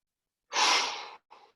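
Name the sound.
deep breath in during yoga exercise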